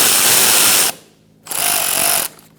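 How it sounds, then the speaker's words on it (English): A power driver with a T27 bit spins bolts out from under the fender of a 2012-2018 Ford Focus: two loud whirring bursts close up, separated by a short pause. "Use the same T27 and take out these two bolts underneath."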